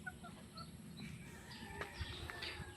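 Soft, faint clucks from a hen in a small backyard poultry pen come as short, scattered calls over quiet farmyard background, with a few brief bird chirps mixed in.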